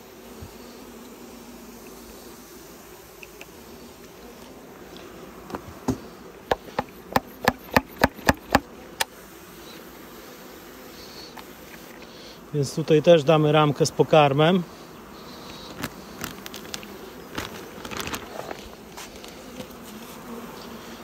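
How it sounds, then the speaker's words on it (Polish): Honeybees buzz around opened hive frames during spring colony splits, a low steady hum under a man's Polish speech, with a burst of louder close buzzing midway and scattered clicks of frames being handled. "No bardzo dużo pszczoły tu dałem."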